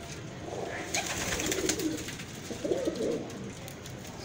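Low rolling coos come from a Teddy breeder pigeon at close range, two or three soft phrases over faint background hum with no clear talk.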